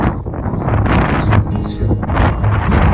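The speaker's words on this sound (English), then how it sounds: "this wind is just crazy" Strong coastal wind buffets the microphone on a clifftop path near sand dunes, roaring continuously and loudly from start to finish with gusty rumbling.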